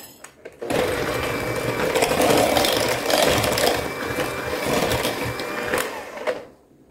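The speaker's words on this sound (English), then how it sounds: "Something sounded odd with my mixer." An electric hand mixer beats zucchini bread batter containing brown sugar, giving a steady, loud mechanical whirring with a rattling, uneven grind that runs for about six seconds before cutting off.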